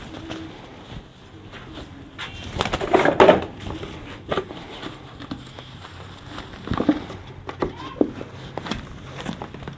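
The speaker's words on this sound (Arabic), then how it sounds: "كل الحمام الصغير ده لسه مفطوم" Young, newly weaned French meat pigeons coo and shuffle close by in a loft, with soft bird calls over a busy rustling background and occasional scuffing, louder around the middle.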